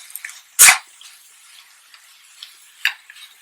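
Thawed sausage, sliced into small rounds, is stirred into a stir fry in a pan: a loud clattering scrape, then lighter scattered taps and one more sharp clack.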